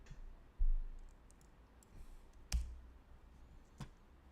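Computer mouse clicking at a desk: three sharp, isolated clicks spaced a second or more apart, fairly close, over a quiet room hum with no talking.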